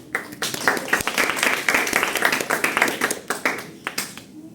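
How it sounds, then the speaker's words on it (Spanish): Applause from students in a physiology classroom after a group presentation, a dense patter of hand claps that swells and then thins out, with a few scattered claps at the end. "Ahora sí, un aplauso a los compañeras."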